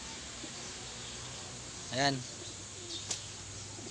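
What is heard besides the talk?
pigeon cooing during bird raffle handover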